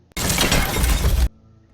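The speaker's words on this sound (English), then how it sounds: "to defeat Mangle, listen for a loud clunking sound" A single loud, harsh clunking crash lasting about a second, with a crunchy metallic texture, followed by a low lingering hum, from the game FNAF AR.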